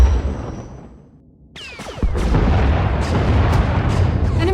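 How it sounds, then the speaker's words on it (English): A warship in the Star Wars: The Old Republic video game fires turbolasers and missiles, heavy booming blasts and laser zips that break in after a brief lull, followed by sustained rumbling explosions. "Enemy is firing. Turbo lasers, missiles, and what looks like transport pods."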